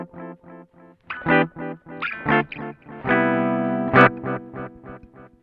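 Electric guitar through a BOSS DD-20 Giga Delay pedal with the treble cut, short plucked notes and chords followed by darker repeating echoes, clear and close with no speech.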